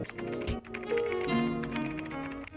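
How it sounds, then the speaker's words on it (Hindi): Computer keyboard typing sound effect, a quick run of close key clicks layered over a busy musical background. "एक साउंड इफेक्ट है, उसका नाम है कीबोर्ड टाइपिंग साउंड इफेक्ट"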